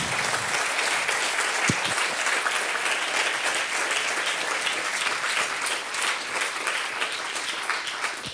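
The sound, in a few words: audience applause after a science lecture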